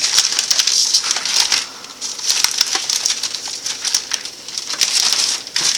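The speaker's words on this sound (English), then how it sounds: "we are going to take our entire thing of Oreos and put them in our bag" Whole Oreo cookies, white cream centers included, crushed inside a bag, giving a dense run of crinkly crunching and crackling that goes on steadily and close up, dipping briefly before picking back up.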